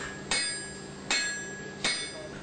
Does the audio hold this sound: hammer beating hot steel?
yes